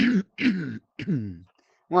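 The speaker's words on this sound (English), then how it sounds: "let me clear my throat." Someone nearby clears their throat in a few short, rough vocal bursts separated by brief pauses.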